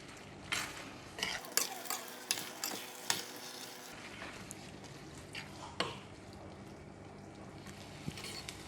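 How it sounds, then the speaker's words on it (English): Bean sprouts are stirred in a clay pot with a utensil, giving soft irregular scraping and clinking knocks over a faint background sizzle, fairly quiet and close. "Bean sprout don't take too long to cook. We just give it a stir and mix it."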